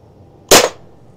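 Air gun firing a single sharp shot at about 500 PSI, loud and close, a brief crack standing out against a quiet background hum.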